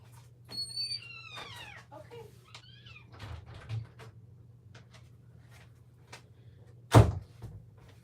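A door in a house is opened and then shut with a sharp thud after a cat meows several times nearby, over a low steady hum.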